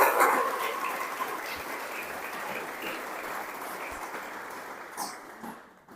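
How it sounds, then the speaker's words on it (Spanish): A church congregation at a Sunday school service breaks into sustained applause, a dense wash of clapping hands that holds steady for several seconds before tapering off at the end. "dale un fuerte aplauso a ese Dios grande"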